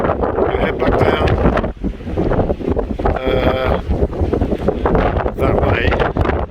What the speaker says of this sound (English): Still windy though.